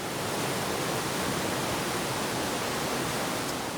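A river running beside a village in Peru rushes in a dense, even wash of water, steady and unbroken throughout with no voices.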